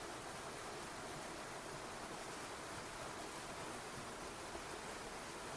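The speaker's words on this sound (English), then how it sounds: "the sound of crashing water overpowered my voice" Water crashing inside a cave, heard as a dense, even roar of white-noise-like rushing that fills the space, steady and continuous at moderate level with no voices.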